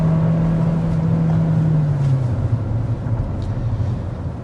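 A 2025 Hyundai Tucson hybrid with all-wheel drive and an eCVT accelerates hard, giving a steady engine drone whose low tone holds, then dips and shifts partway through, heard from inside the cabin with no talking.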